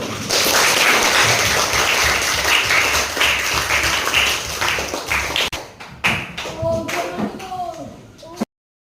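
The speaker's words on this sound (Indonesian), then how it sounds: "Mari kita beri tepuk tangan dulu." Classroom audience clapping together after students share their opinions, a dense steady patter that fades out with a few scattered claps and shuffling near the end.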